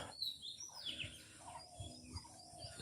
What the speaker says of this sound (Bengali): পাখির আওয়াজ শুনতেছেন?